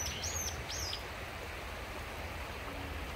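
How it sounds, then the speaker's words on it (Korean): Birds chirp a few short high calls early on along a mountain walking trail, over a steady rushing background like flowing water, with no talk. "와, 새소리까지 더해주네."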